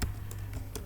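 Typing on a computer keyboard: a few separate keystrokes tap close by at uneven intervals against a low steady hum, with no talking.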